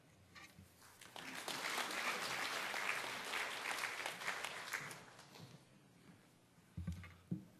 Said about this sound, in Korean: 경애의 박수를 보냅니다